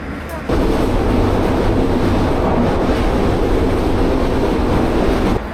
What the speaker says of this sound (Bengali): আর ট্রেন বেশ ভালোই গতি নিয়ে চলছে